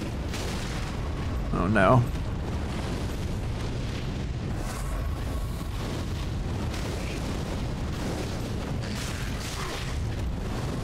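Fireball explosions in Dark Souls III, a deep booming burst near the start followed by a steady rumbling battle din, with a voice briefly exclaiming over it.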